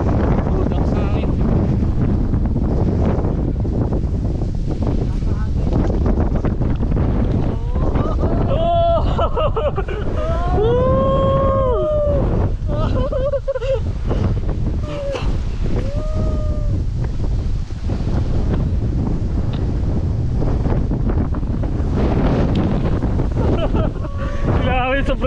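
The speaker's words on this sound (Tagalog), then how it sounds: "Lakas na hangin." Strong mountain wind buffets the microphone in a constant loud roar on Mt. Batulao, with people talking and exclaiming intermittently through the gusts.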